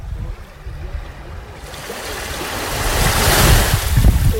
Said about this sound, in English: enjoy some of the sounds of the Mediterranean Sea